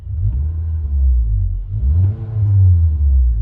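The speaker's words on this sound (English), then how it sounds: "And let me see if I rev it a little bit." A car engine fitted with a performance chip revs twice, each a low throaty rise and fall heard close up, with no voices over it.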